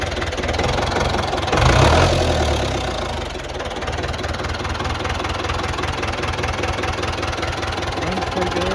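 An old tractor engine idles after a restart, a steady low knocking chug that swells briefly early on, then settles into an even, close rumble with no talking over it.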